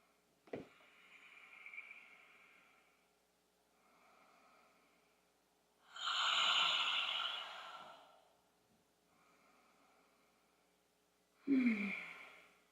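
Slow, deep breaths during a yoga twist, heard as a quiet inhale, then a long loud exhale like a sigh, then a sharp snort-like breath near the end, close and isolated in a quiet room.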